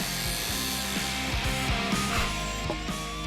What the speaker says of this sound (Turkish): Bir matkap.